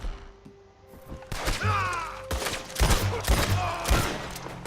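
Gunshots ring out in Red Dead Redemption 2, a run of loud, sharp cracks spread across a few seconds, some close together. They sound over a busy game soundscape with faint tonal music or effects.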